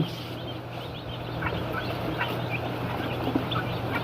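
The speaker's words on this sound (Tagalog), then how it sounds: "Yan, gaganda ng sisiw." Eighty-two newly arrived Class A broiler chicks peep in a steady chorus of many small, overlapping chirps, with a constant low hum beneath.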